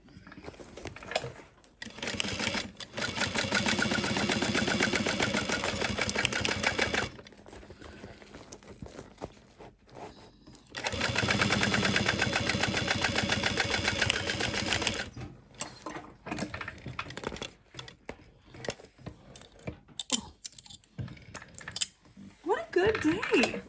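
A sewing machine stitches the corners of a fabric bag in two long, steady rapid bursts separated by pauses, followed by shorter stop-start runs, with quiet speech in between.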